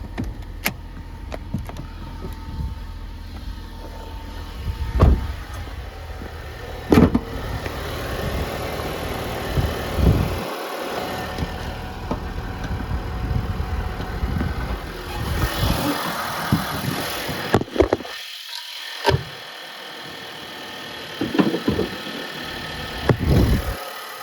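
A 1.6 liter four-cylinder turbo car engine idles steadily with a low mechanical hum, accompanied by a few clicks and brief shifts in the noise.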